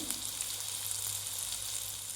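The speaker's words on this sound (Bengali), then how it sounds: "এবার আমি এটাকে তুলে নেব হালকা ফ্রাই করে" Food frying in a pan of hot oil gives a steady, even sizzle that lasts through the whole short stretch at moderate volume, with no voices.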